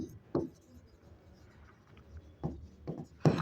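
A pen scratches on paper in a few short strokes during an accounting lesson on ledger entries, faint and close in a quiet room, with soft rubbing between strokes.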